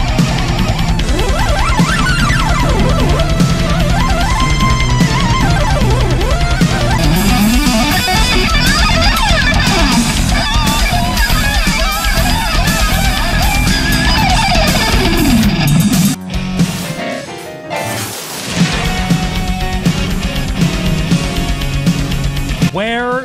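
Dense, loud guitar-driven instrumental music from the first-person shooter Extreme Paintbrawl, drawn from a demo CD, playing continuously with a heavy wall of distorted guitar and a brief drop in intensity partway through.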